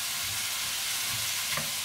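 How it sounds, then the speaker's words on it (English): Mirin splashed into a hot stir-fry pan to deglaze it, producing a faint, steady hiss of sizzling with a low rumble underneath. "I usually start with the wine first, which we got here is the mirin. So deglazing the pan"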